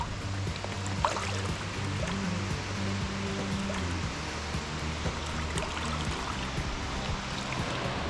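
A waterfall and stream at Véu da Noiva falls in Jaguariaíva, Paraná, give a constant rushing, splashing wash of water as someone wades into the cold pool. No voices are heard.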